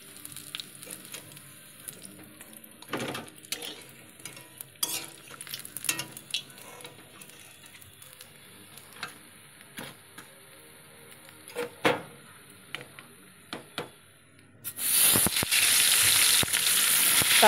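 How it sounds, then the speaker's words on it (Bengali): Rohu fish pieces hit hot oil in a pan. After a long stretch of faint clicks and small kitchen noises, a loud, steady, close sizzle bursts in and keeps going to the end. "তারপরে আবার যে বাকি মাছগুলো ছিল এবার ভেজে নেব"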